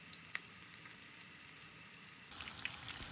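Köfte meatballs frying in a pan give a quiet, steady sizzle with a few small pops. The sizzle grows louder and busier near the end.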